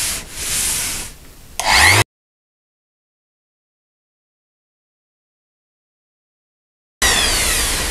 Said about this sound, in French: bien nettoyé, bien poncé, un coup d'après mastic